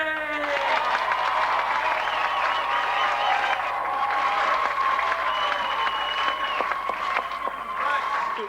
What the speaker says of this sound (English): have some really enthusiastic applause? Hooray!